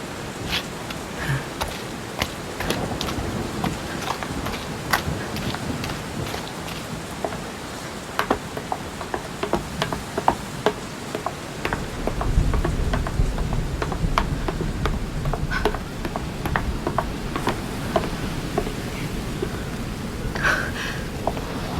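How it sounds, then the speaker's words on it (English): Steady rain and wind roaring through a stormy island pier scene in a horror adventure game, with scattered drops and a heavier rumbling gust building midway, continuous and fairly loud with no one speaking. "Will this storm ever end?"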